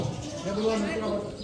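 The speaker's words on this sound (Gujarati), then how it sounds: "આ હોલાનો અવાજ હતો." A dove coos in a school sound quiz, soft low tones played under a murmur of classroom voices.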